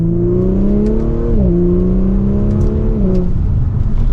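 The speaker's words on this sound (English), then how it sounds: "you're getting that exhaust, and this is what you're going to hear" A 2023 Audi S4 engine revs steadily, dipping and rising in pitch as it accelerates from second gear, loud and close with a deep droning exhaust tone.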